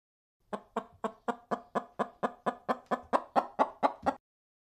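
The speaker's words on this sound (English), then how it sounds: "Look, it's the chickens. And they're making that sound." A chicken clucks in a steady run of about fourteen evenly spaced, fairly loud calls, clear and close with no other sound around it.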